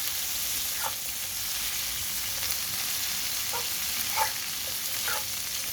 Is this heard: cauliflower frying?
yes